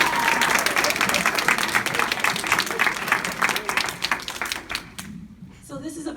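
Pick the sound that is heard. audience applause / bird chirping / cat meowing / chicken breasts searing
audience applause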